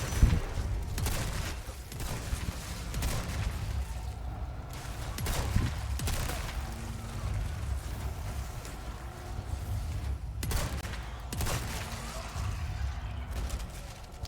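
Shotgun blasts fired at a parasite-infested monster in the video game Resident Evil 4, heard as several sharp, loud booms spaced a few seconds apart over a steady, rumbling game backdrop.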